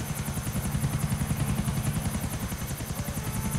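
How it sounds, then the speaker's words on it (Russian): A helicopter in the video game GTA 4 drones steadily with rapid, rhythmic rotor thumping and a constant high whine, loud and close, with no talk. "Ну, сложно управлять здесь вертолетом."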